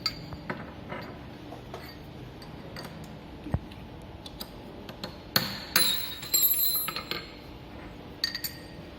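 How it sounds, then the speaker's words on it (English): Hammering on a radial drilling machine while changing the drill bit, heard as scattered sharp metallic taps and clinks, faint at first, then a denser cluster of louder knocks near the end. "we are doing some hammering action."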